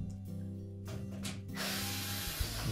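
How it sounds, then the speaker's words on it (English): Screws are backed out of the rear panel of a Samsung range with a power driver, giving close ratcheting whirs in short bursts followed by a longer continuous spin. "we'll need to remove some screws to remove that rear panel."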